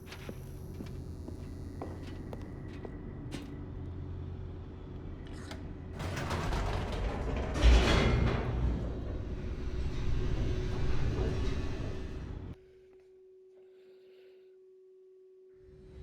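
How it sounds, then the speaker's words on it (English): An elevator descends in the game The Stanley Parable, a low mechanical hum with a steady tone that swells into a louder rumbling, clattering rush midway before abruptly dropping back to a faint drone. "The elevator raced downward, plummeting towards an unknown fate."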